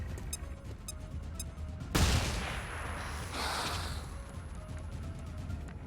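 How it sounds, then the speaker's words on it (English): A flashbang goes off in XCOM: Chimera Squad, a single loud burst followed by a hissing, crackling decay over a steady low background rumble. "Throwing a flashbang."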